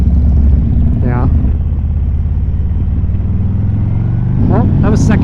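A Harley-Davidson Road King motorcycle pulls away in second gear, its engine a low, steady, slightly lugging chug rumbling up close while people talk over it.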